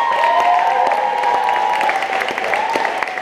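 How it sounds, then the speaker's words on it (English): A crowd at a vogue ball battle final claps steadily for a few seconds, a dense patter of applause with a few scattered cheers. "let's give them both a round of applause"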